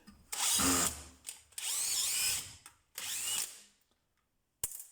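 A DeWalt DCD996N cordless drill drives a size-six screw in three close, loud whirring bursts separated by short pauses, ending with a faint click.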